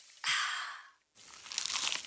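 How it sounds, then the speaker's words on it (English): A bite into a crunchy, cheesy pizza slice: a loud crisp crunch followed by a brief pause, then a second stretch of crackly chewing and crinkling, close and without talk. "Is that the sound of an ooey gooey, cheesy, crunchy slice of P-I-Z-Z-A?"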